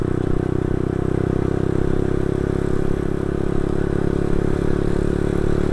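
A Yamaha Xabre 150cc motorcycle ridden on the road gives a continuous, loud, rumbling engine drone mixed with wind rush, steady throughout with no voices.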